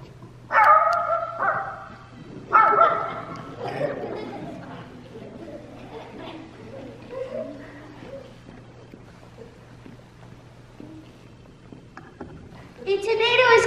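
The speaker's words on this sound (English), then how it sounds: "a little black dog named Turkey." A small black dog barks in short bursts near the start and again around the middle, then a final loud burst at the end, with a steady low hum and faint sounds between.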